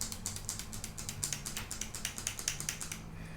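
Rapid rattling clicks from a Maybelline Superstar Vinyl Ink liquid lipstick tube being shaken, a steady run of close, crisp taps over about three seconds, with no talking.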